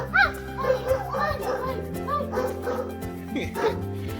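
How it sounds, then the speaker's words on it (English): Recorded dog barking effect played from a small microphone-speaker toy, with several short barks and yips spread across the clip over a steady electronic backing tone, children's voices audible alongside. "This I'm gonna press dog barking."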